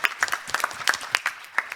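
Short burst of scattered audience clapping at a software testing panel Q&A, a handful of distinct claps at uneven intervals, fairly close and thin rather than a full roaring crowd.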